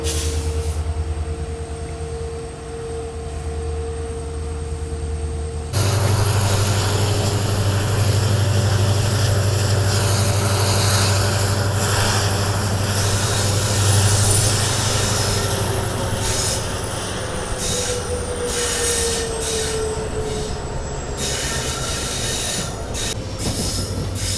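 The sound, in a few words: diesel train departing station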